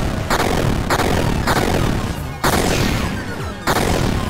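Loud gunshots in the video game Lollipop Chainsaw ring out in repeated sharp bursts, roughly every half second at first and then at longer gaps, each with a short decaying tail over a busy game-sound background.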